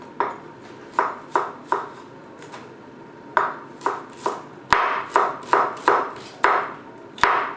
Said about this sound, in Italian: E affettiamo lo scalogno.